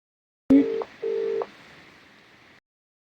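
A mobile phone call rings out through a handset: two long electronic ringback tones in succession, loud and clean, followed by a faint fading hiss.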